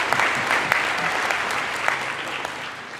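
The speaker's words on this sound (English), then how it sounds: "Please give them another round of applause." An audience at a COP26 session on sustainable agriculture gives a round of applause, dense steady clapping from many hands that carries evenly throughout and tapers slightly toward the end.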